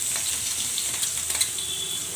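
Onions frying in oil with ground fennel and cumin for a simple potato curry, a soft steady sizzle with faint crackles and small pops, close and fairly quiet.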